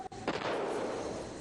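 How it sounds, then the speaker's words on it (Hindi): A single ceremonial cannon shot rings out during the 21-gun salute at the state funeral of former Indian Prime Minister Manmohan Singh. It is a sharp boom followed by a long rolling, reverberating tail. "आप 21 तोपों की वो सलामी भी सुन सकते हैं।"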